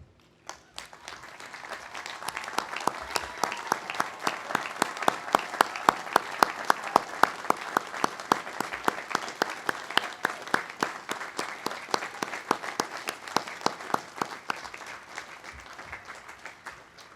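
Sustained audience applause at a 2015 college commencement, steady dense clapping that rises in the first second, holds for about sixteen seconds and eases slightly toward the end, with no talking over it.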